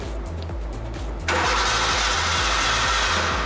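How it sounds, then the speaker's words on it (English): A petrol engine cranked by its starter during an ignition spark check, with a steady low rhythmic churning throughout. Partway through, a loud broadband hiss or rush joins in and stays until the end. "Right, so I'll crank now the engine and check if there is spark"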